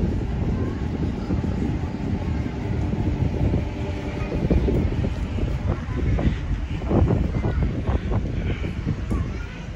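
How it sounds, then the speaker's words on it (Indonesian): Inside the driver's cab of the Batara Kresna train, a dense continuous rumble of running gear and wind with rattling clatter building toward the end, and someone speaking faintly at times. "Dan ini merupakan di dalam kabin masinis nih"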